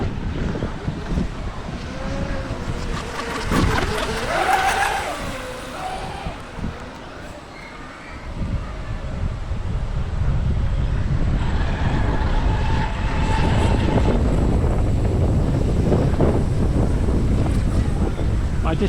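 An old restored RC boat's small motor whines across choppy water outdoors, mixed with wind buffeting the microphone and splashing waves, while people talk nearby.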